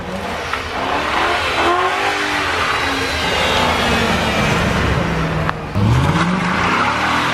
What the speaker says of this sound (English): You can hear the motor like, it's strange. It sounds supercharged almost.